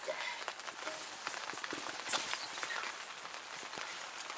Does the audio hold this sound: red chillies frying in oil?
no